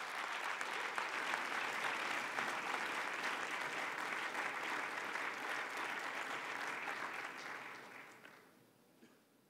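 Audience applause welcoming a cellist onto the stage at the Davos 2016 annual meeting closing performance: a dense, loud, sustained wash of clapping from a large crowd that fades off over the last couple of seconds.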